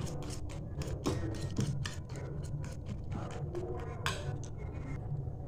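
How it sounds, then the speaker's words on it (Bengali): Eggs being beaten in a bowl, a rapid, close run of rhythmic clinking and tapping strokes against the bowl over a steady low background rumble. "তো চলো আমি একটু ভালো করে ফেটে নিই"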